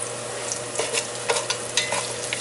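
Six bouillon cubes being stirred in a hot pot for lentil soup, with a steady sizzle and irregular scraping strokes of the utensil against the pot, close and continuous, with no talking.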